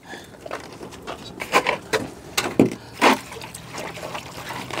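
Drinking water being poured out and changed, heard as a few short, uneven splashing and trickling bursts at moderate loudness against a quiet room, with no talking.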